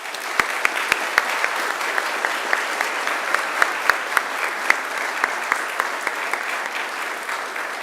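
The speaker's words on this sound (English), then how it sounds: "Please join me in a round of applause for them." Dense, sustained applause from a large audience at a Macquarie University graduation ceremony, steady clapping filling a hall without pause for about eight seconds, with no speech over it.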